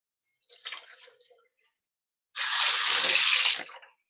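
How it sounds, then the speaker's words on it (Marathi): Tap water runs over dried shrimp (sukat) being washed in a kitchen, first a soft brief splash, then after a pause a louder steady gush of water for about a second. "ही सुकट आपल्याला एकदा पाण्यातून धुवून घ्यायची."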